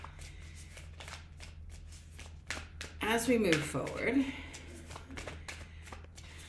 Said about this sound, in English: I'm just shuffling some cards again because I want to pull another one for you.